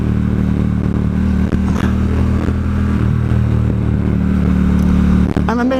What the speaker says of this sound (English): Grunty engine, hey!